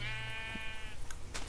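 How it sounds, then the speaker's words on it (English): Single sheep bleat from Minecraft, a short wavering game sound effect, clear and close with no talking. "We've got a bunch of sheep here"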